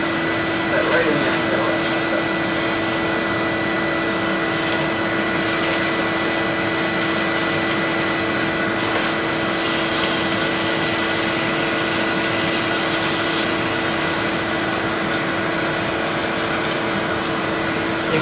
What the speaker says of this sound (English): You follow your toothbrush with the vacuum